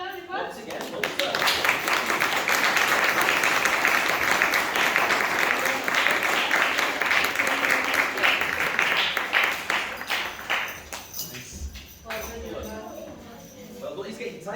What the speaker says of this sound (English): Give this young man a big clap.